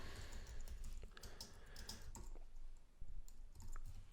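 Keys clack on a computer keyboard in a run of quick, uneven taps with a short pause, close and fairly quiet, no voices.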